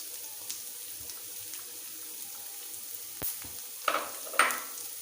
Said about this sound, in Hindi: तीन मिनट हो गए, हमें इसमें शामिल करते हैं प्याज।